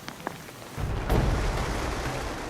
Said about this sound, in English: I wonder if this is the beginning of the rains.